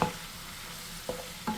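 Beef frying in a pan with fish sauce and pepper gives a soft, steady sizzle, and two brief stirring scrapes come near the end, close and fairly quiet.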